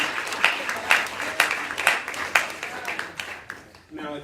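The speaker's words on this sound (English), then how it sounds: "Let's give them a hand clap of praise one more time." A lecture audience breaks into rhythmic unison hand clapping of praise for two speakers, evenly spaced loud claps about every half second that fade out near the end as a voice begins.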